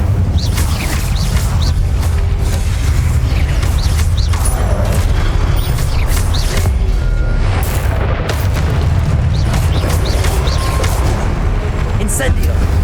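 The Incendio fire spell cast in Hogwarts Legacy during a trial: a continuous dense roar of magical fire and rumbling booms, loud and close, with layered crackles and clanks of combat running through the whole stretch.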